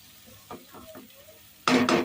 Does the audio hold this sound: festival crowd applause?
no